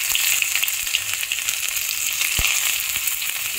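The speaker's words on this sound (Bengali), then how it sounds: "তেল গরম হয়ে গেছে এর মধ্যে দুটো তেজপাতা আর একটুখানি জিরে ফোড়নে দিয়ে দিচ্ছি" Bay leaves and a pinch of cumin seeds sizzle and crackle steadily in hot oil for a cabbage curry, a close, busy frying hiss with occasional sharper pops.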